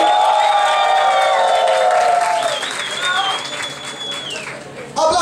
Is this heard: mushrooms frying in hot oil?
no